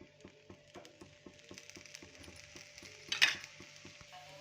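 A rava dosa made from semolina sizzles in oil on a hot pan, with a steady low crackle and faint ticking pops near at hand. A louder scraping burst comes about three seconds in.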